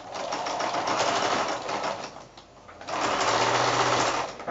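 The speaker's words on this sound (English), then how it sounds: "now I'm going to go to the sewing machine and do my 1/4-inch seam allowance all the way along" A sewing machine stitches in two runs with a brief pause between, a fast buzzing whir up close, with no talking.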